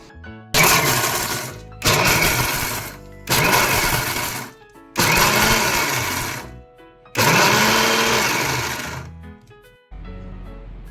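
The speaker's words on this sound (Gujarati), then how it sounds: "બંધ ચાલુ કરીને એને ગ્રાઇન્ડ કરવાનું છે." A mixer grinder whirs loudly in five short bursts, with brief pauses between them, then starts a sixth, quieter run.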